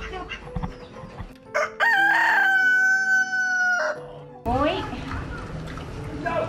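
A rooster crows loudly and close in a long drawn-out call, with other chickens clucking around it at a home in Hoi An, Vietnam, and a voice speaks in the background.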